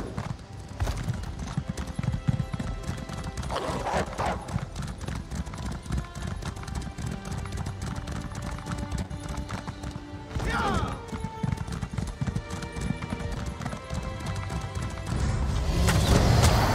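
Steady clip-clop of a horse's hooves while riding across terrain in Elder Scrolls Online, a continuous galloping rhythm at close range, with occasional whinnies and brief speech over it.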